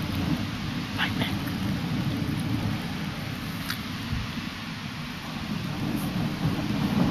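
Thunderstorm seen from a patio, with steady heavy rain hissing throughout and low rumbling thunder rolling underneath, plus a few faint sharper crackles; a constant, dense wash of storm noise with no clear speech.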